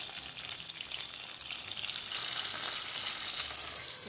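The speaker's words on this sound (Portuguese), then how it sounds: "vou colocar um pouquinho de água, olha só" Water poured into a frying pan of browned chicken drumsticks bursts into a loud, steady sizzle that swells and stays intense, with hissing steam close up and no talking.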